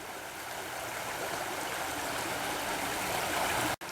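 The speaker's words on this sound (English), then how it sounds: "Frog Creek is flowing strongly because of all the melting snow." Strong, steady rushing of a creek swollen with snowmelt, close and continuous broadband water noise that cuts out abruptly just before the end.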